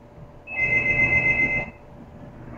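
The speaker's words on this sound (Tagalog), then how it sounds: "So, may tatawag pa." A telephone rings for an incoming call, one electronic ring burst of about a second, clear and close, with quiet before and after.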